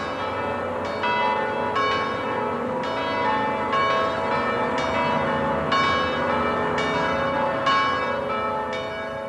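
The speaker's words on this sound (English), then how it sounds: "The bells of the Sacré-Cœur in Paris, solemnly pealing." The bells of the Sacré-Cœur in Paris peal solemnly, with a steady, overlapping series of rich, ringing strikes roughly once a second, each tone lingering into the next.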